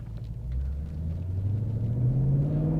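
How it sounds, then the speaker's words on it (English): Ford Mustang twin-turbo engine in a 10-speed car accelerating from inside the cabin, a deep rumble rising steadily in pitch as it pulls through a gear, fairly loud and continuous with no talking. "Again, the 10-speed going through the gears just so nicely. You can hear the turbos whistle."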